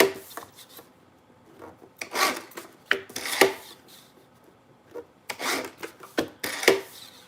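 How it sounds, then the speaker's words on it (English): Paper cards being trimmed apart at a craft table while making a mini book, giving scratchy rasping bursts of cutting in uneven strokes. The cutting is close and clear, with no talk over it. "So all of these now we can trim apart."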